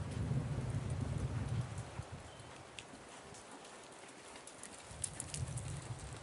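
A horse canters around an outdoor riding arena, its hooves beating a steady three-beat rhythm in the dirt. The sound is moderately distant and fairly quiet, with faint birds and a low ambient rumble behind it.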